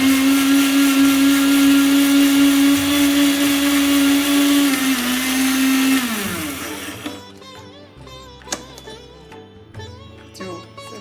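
A mixer grinder crushing sugar and bread runs at a loud, steady whine for about six seconds, then winds down and stops, leaving faint kitchen clatter and a few light knocks.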